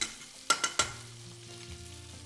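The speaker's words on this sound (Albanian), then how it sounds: "Qepët e prera në gjysmë hënë. Në gjalp." Onions cut into half-moons sautéing in butter for a veal steak with mushrooms: three quick utensil knocks against the pan, then a soft, low, steady sizzle with a faint hum beneath.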